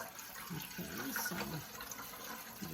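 A small amount of water being poured into the tank of a filter-free cool-mist humidifier, heard as a steady close splashing pour that runs through the whole moment.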